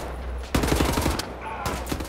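Rapid bursts of gunfire in the video game Wolfenstein: The New Order, loud and close, firing in a quick rhythmic volley, pausing, then resuming briefly, with no talk over it.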